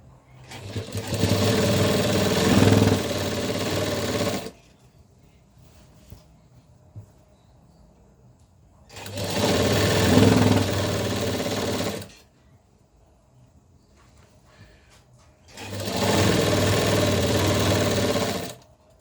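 Sewing machine stitching a belt joint in three separate bursts of steady, loud motor whir, each lasting a few seconds with quiet pauses between, close up and without talk.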